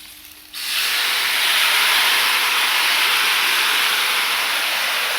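Meat kebab stews in a covered kazan over an outdoor fire, releasing a sudden, loud, steady hiss of steam that carries on without a break.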